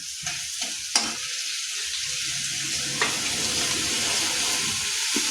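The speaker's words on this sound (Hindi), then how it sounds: "एकरा कने भूजि लै छियै या जाहिसँ लहसुनके कच्चापन जे रहै छै गन्ध से निकलि जेतै।" Garlic frying and sizzling in a pan for a vegetable curry of aubergine, potato and adauri, with a steady sizzle, occasional stirring clinks and scrapes, close and alone without speech.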